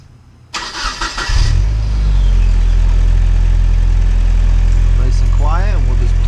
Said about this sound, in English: the final thing you can do is start your car up and check for an exhaust leak